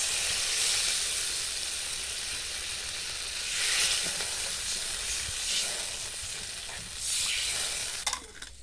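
Hot spiced oil in a pan, cooking a Bengali-style singi fish curry with eggplant, sizzles and hisses steadily after water is poured in. A spoon stirs it now and then, and a short clatter comes near the end.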